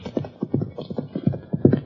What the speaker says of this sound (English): a horse and rider bear down on them at a fast gallop